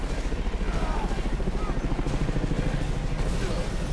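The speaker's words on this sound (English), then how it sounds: "Batman shouldn't have to just, like, wait while the helicopter flies in" A helicopter flies in during Batman: Arkham Origins gameplay, its rotor producing a steady, loud, rhythmic thumping that pulses evenly across the whole stretch.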